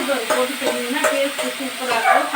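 Broad beans poriyal with onion is stir-fried in a pan, giving a close, steady sizzle broken by quick rhythmic scrapes and stirs of a spatula.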